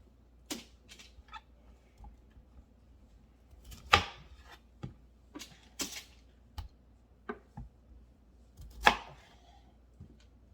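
Knife chops through food pieces on a cutting board in sparse, irregular strokes, a dozen or so sharp thuds with quiet gaps between them.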